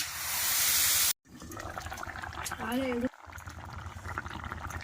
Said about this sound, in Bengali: তরকারি খুব ভালোভাবে কষাই করে নিয়েছি এবারে জল দিয়ে দেবো